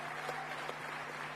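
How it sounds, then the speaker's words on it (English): An audience at the Africa Climate Summit at KICC, Nairobi applauds for Natalie, a young representative of the children. A dense, steady wash of clapping continues throughout the short moment. "Let's put a round of applause for her."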